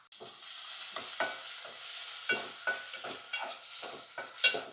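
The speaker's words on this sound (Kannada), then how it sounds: "ಒಂದು ಈರುಳ್ಳಿ ಹಾಕ್ತೀನಿ ಕರಿಯೋದಕ್ಕೆ" Onion frying in a pan for aloo palya masala sizzles steadily while a spoon scrapes and stirs in repeated strokes, the clinks of metal on pan standing out above the hiss.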